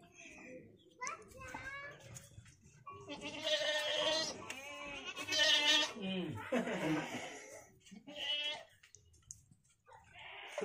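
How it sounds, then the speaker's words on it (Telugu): Goats bleat repeatedly in a Gond tribal village, several loud wavering calls overlapping one another, with children's voices chattering in the background. "మేకలు ఉన్నాయి."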